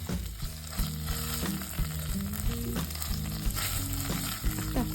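A tablespoon of tomato puree sizzles in about a tablespoon of hot oil for soup, a loud continuous frying hiss with scraping stirs and low clatters from the pan, and no talking.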